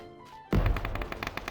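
Gunfire in the battle royale game PUBG: Battlegrounds, a sudden loud burst followed by a rapid, evenly spaced string of sharp shots, close and continuous, with no talk over it.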